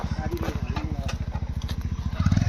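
A motorcycle engine idling nearby with a fast, even chugging pulse that grows a little louder toward the end, alongside some light clatter.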